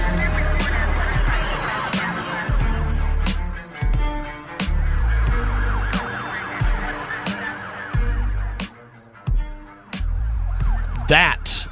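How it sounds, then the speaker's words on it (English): A wailing siren effect is woven into a loud, bass-heavy hip-hop beat, with warbling tones running through the track and a rising siren sweep near the end. "Hear the sound of the sirens"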